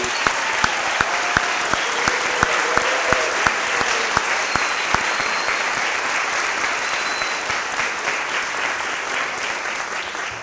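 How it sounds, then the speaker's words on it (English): Applause from an upper school audience at an honors day ceremony, starting with a few loud, evenly spaced claps that swell into dense, sustained clapping from a large crowd, which then thins gradually. "round of applause, please"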